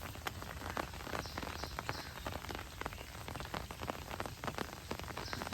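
Rain falls on an open fishing boat during a traditional catch of small river fish, a soft continuous patter with scattered sharper drop hits, fairly quiet and with no voices.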